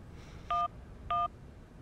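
Two short, clean telephone keypad tones sound in the video game Syberia, a dialing pair separated by a brief gap over a faint background hum.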